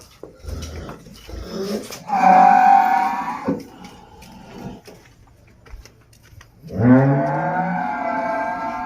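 A domestic buffalo cow on a farm gives two long, loud lowing calls, one near the start and one toward the end, with quiet farmyard background in between.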